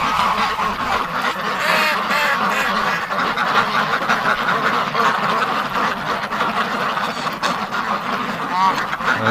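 Ducks and geese quack and honk steadily in a noisy flock on a cold winter morning as they are let out of their pen, with some human voices mixed into the dense chorus.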